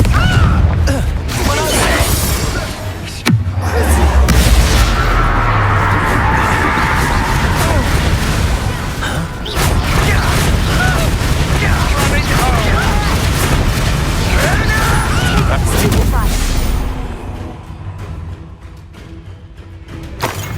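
Loud, sustained blasting-curse explosions and booming impacts in Hogwarts Legacy, a dense, chaotic barrage of rumbling blasts and crashing debris that barely lets up before easing off near the end, with voices mixed in.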